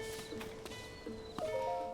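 Horse from the video game Zelda Tears of the Kingdom, heard as quiet rhythmic clip-clop hoofbeats under soft game music tones.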